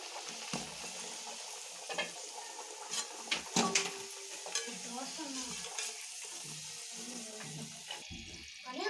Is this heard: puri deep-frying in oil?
yes